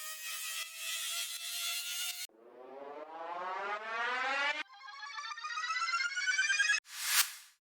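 Several electronic riser effects play one after another, each climbing in pitch and building in intensity, ending with a loud noisy whoosh sweep.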